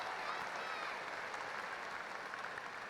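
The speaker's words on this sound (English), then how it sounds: "we'd like to give them a quick round of applause" A high school graduation audience gives a round of applause, a continuous even wash of many hands clapping at steady volume throughout.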